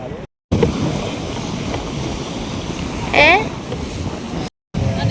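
Strong wind roars steadily across Kollam beach at night, buffeting the microphone in a dense, continuous rush, with a brief voice rising through it midway.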